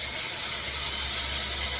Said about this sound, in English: The smoke and sizzle make a nice flavor.